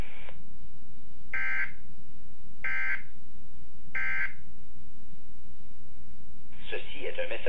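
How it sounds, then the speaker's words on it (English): Weather Radio Canada's monthly test alert tone sounds as three short, loud, evenly spaced tonal bursts, followed by a fourth harsher warbling burst. Steady background noise and voice-like murmur run underneath throughout. "Ce message est destiné à tester les fonctions d'activation d'alarme des récepteurs Radio Météo."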